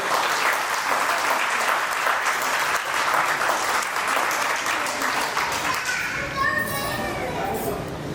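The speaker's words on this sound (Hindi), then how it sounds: "एक बार बिग एप्लॉज, जोरदार तालियां होंगे" Loud, sustained applause from a large audience, including children, greets an event anchor at a marketing association gathering, with steady dense clapping and some voices fading toward the end.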